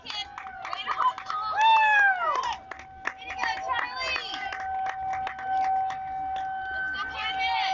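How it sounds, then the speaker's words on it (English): A long, steady siren tone sounds at a 13U youth baseball game, holding for several seconds over crowd noise and cheering voices. "Seems like an extra long siren today."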